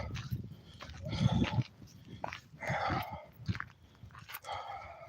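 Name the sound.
dog growling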